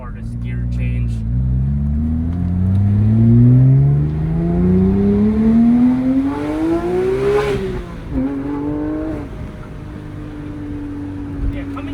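Porsche 997 GT3 flat-six revs loudly and climbs steadily in pitch, then drops sharply at a shift into second gear and settles to a lower, steady note, heard close and alone.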